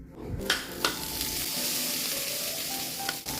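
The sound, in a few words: food frying in a frying pan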